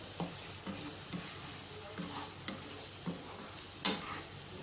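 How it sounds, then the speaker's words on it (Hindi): Whole spices fry in oil for potato rice, giving a soft, steady sizzle close by, broken by a handful of light stirring scrapes and taps, with no voices. "सारे स्पाइसेस हमारे अच्छी तरह से भून गए हैं।"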